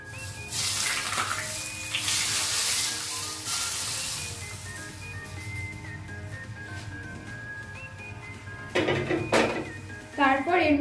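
Heated mustard oil is poured into a pan of whole spices while making Champaran mutton, giving a broad hiss and sizzle. Toward the end come a few clattering knocks against cookware, and a voice talks over the sound.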